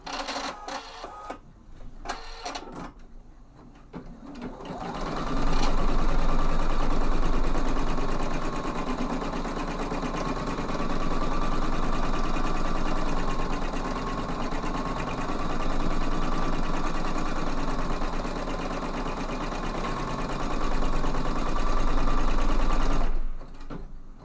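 Embroidery machine stitching an appliqué design in a steady, loud mechanical chatter and whir that runs continuously for nearly twenty seconds, with clicking and handling noises at the start and at the end.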